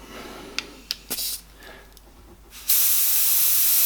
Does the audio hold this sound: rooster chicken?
no